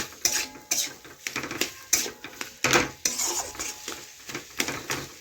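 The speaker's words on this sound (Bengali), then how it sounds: "এইভাবে নাড়াচাড়া করে করে কষে নেব আর ভালোভাবে ম্যাশ করে নেব" A potol filling is stirred and mashed in a pan with steady, close scraping and knocking strokes in an uneven repeating rhythm, loud and alone without talk.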